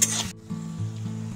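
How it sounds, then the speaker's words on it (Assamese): Ginger-garlic paste fries in a pan while being stirred for a Local Chicken with Black Pepper curry, giving a brief bright sizzle at the start that drops to a low, steady simmering hum. "এতিয়া এইখিনি অকমান সময় লৰাম মানে খুব বেছি 1 মিনিট মান ভাজিম"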